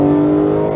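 A Porsche 911 GT3 991.2 accelerates hard on a race track at Exotics Racing, Las Vegas, giving a brief, loud, close engine drone with a strong steady tone and no voices over it.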